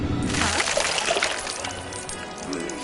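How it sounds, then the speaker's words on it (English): Liquid splashes and pours onto the ground in a Lego Harry Potter video game, a bright, close gush with clinking bits that fades into a softer trickle. "Sounds like liquid pouring out on the ground"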